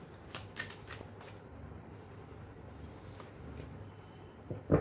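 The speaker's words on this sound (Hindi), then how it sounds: "एक टैरो कार्ड और लेंगे गाइडेंस के लिए" Tarot cards are shuffled nearby in quick riffling bursts near the start, then fainter card handling and a soft thump at the end, with quiet room tone and no talking.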